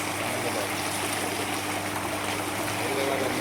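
Rainwater flooding and flowing along a road like a river, a constant loud broadband rush of water with no breaks, with speech faintly under it.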